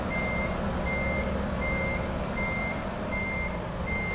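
Reversing beeps from a Mack MP8HE truck in American Truck Simulator, a steady series of evenly spaced tones repeating about every 0.7 seconds over a constant loud engine drone.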